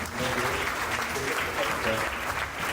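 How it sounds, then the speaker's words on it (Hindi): Loud, continuous applause from an audience at a corporate CSR ceremony, a dense wash of many hands clapping steadily at close range. "जोरदार ताली होनी चाहिए"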